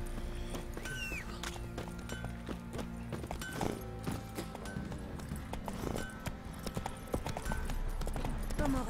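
Horse hooves clip-clop in the video game The Witcher 3, a rapid run of hoofbeats at moderate level with scattered clicks and game sounds, someone talking over part of it.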